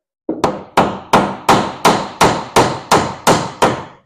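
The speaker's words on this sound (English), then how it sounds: "Hammer." A hammer strikes a car part about ten times in a steady, evenly spaced rhythm. Each blow is a sharp, loud metallic impact that rings briefly, close by, with no talking.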